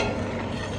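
Spices sizzle and fry in a little oil for a vegetable biryani, a steady close crackling hiss that is brief and has no voices.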